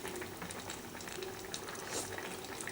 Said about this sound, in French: donc on laisse mijoter 5 petites minutes